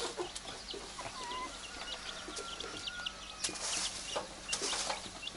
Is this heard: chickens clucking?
yes